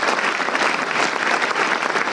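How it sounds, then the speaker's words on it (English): Conference audience at a 2014 partnering summit breaks into steady, dense applause: many hands clapping at once, loud and continuous throughout, with no break or voice on top. "So a round of applause for our two panels."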